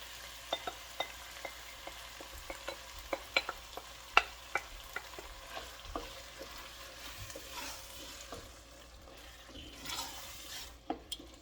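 Tomato sauce going into a pot of chili and being stirred, with soft sizzling underneath and irregular small clinks and scrapes of a spoon against the pot, fairly quiet and close.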